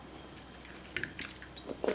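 A set of keys placed into a handbag pocket, giving a few faint metallic jingles and light clinks over two seconds, heard close up with no talking.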